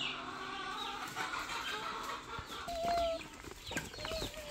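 Farm turkeys and other fowl making scattered clucks and short calls at a moderate distance, with a busy background of birdsong and small knocks in the open yard.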